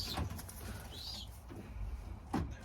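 A pigeon coos quietly nearby, with a couple of low, soft calls spaced apart and a brief higher chirp between them over faint background noise.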